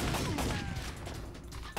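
Rapid gunfire in the PlayStation video game Time Crisis rattles in a quick fusillade of shots, loud and continuous over a short burst with game noise behind.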